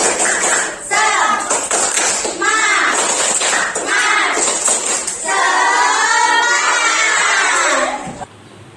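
Students in a classroom perform the tepuk semangat clapping chant, rhythmic group claps and shouted, sung syllables in unison, loud and close, lasting several seconds before stopping abruptly.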